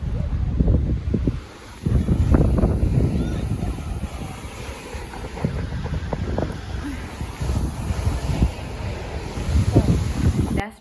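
Ocean waves and wind at Bahari Beach in Africa, a loud continuous roar of gusting wind buffeting the microphone over rolling surf, with a brief lull near the start.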